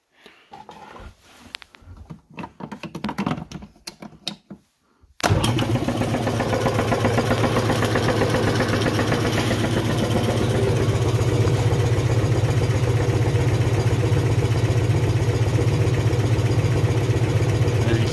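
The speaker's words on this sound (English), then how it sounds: "so I'm going to start the air compressor up and" An air compressor filling a tank starts up after a few seconds of scattered handling noises, then runs as a loud, steady, close rumbling drone through to the end, with no voices.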